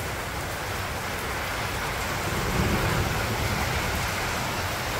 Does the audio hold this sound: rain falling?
yes